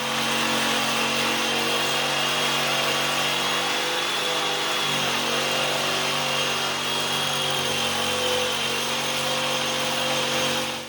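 A power saw cuts a notch into a 2x3 wooden board while framing a drop camper. The loud, steady whine runs unbroken for about eleven seconds, close by, with no talking.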